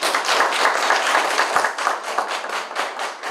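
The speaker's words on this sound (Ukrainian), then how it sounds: "на що присутні зреагували оплесками" Meeting attendees applaud together in a dense, steady round of close clapping that holds throughout with slight swells and no speech over it.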